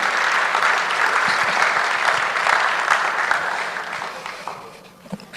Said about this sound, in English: Please, I think that deserves a round of applause.